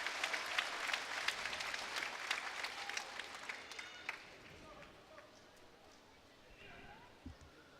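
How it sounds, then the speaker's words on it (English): Home crowd at a Korea Open table tennis quarterfinal applauding and cheering, a dense burst of clapping that fades after a few seconds, leaving quieter murmur and a few faint thuds. "The home crowd is cheering for Lee Sansu."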